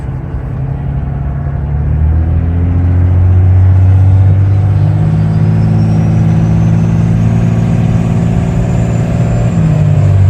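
Cummins compound-turbo diesel tow truck pulling out and accelerating, a loud, close, continuous low diesel rumble that swells gradually with no speech.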